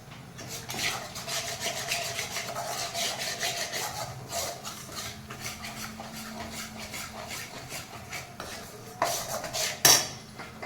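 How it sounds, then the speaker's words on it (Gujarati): Ingredients being roasted and stirred in a pan over a low flame, with steady scraping and rubbing of a utensil against the pan and a few sharper clinks near the end. "હજી પણ થોડું એને વધારે શેકશું આપણે, 5 મિનિટ જેવું ધીમા તાપે એને શેકશું આપણે"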